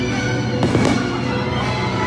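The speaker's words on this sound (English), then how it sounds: "fireworks." Fireworks bursting over Epcot on New Year's Eve, a loud continuous crackle and rumble with a sharper boom near the middle, heard amid open-air ambience.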